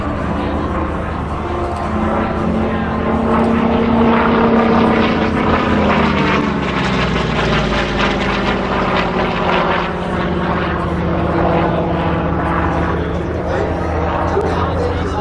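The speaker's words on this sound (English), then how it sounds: "John brings the Corsair back in" A Corsair propeller fighter drones past at an air show, a loud sustained engine roar with a shifting pitch as it flies by, while a commentator talks over it.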